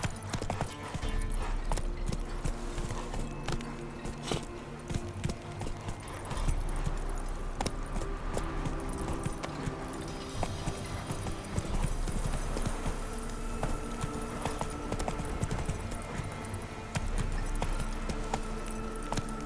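Roach, the horse in The Witcher 3, gallops with rapid, steady hoof clip-clop up close, joined by an occasional neigh and jingling tack, continuous for the whole stretch.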